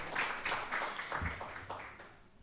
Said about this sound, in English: please round of applause to the panel and to the moderator